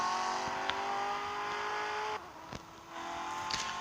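A car's engine runs and revs in the Gangster Vegas video game, a loud sustained whining tone that drops abruptly partway through before rising again, with no talk.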